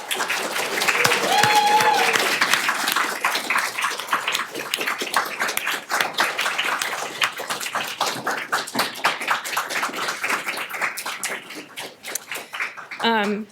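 Audience applause at an award ceremony honoring teacher coaches, steady dense clapping from a large crowd lasting over ten seconds and gradually thinning, with a voice briefly audible at the start.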